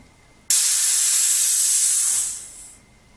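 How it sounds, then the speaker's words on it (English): A sharp, loud hiss as air rushes from a pipe through a fitting valve, starting abruptly, holding steady for about two seconds, then tapering off. "I'll release here the air that's in the pipe"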